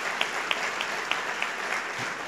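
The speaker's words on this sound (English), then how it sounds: "Y'all need to give them a round of applause," Quiet audience applause at a state awards ceremony, a few sparse, distinct claps spaced out over a soft background, distant and faint.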